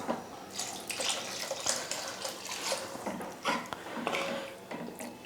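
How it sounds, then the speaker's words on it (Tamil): Water splashes and gurgles steadily into a pot of cooking sambar, a continuous pouring with small bubbling bursts, close by. "இப்போ சாம்பாருக்கு தேவையான அளவுக்கு தண்ணி சேர்த்துக்கலாம்"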